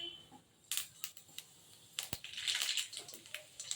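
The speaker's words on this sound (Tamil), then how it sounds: "கடுகு உளுந்து சேர்த்துக்குவோம்." Mustard seeds and urad dal crackle in hot oil for a Tamil ridge gourd kadaiyal, with close, irregular pops and sharp snaps over a soft sizzling hiss.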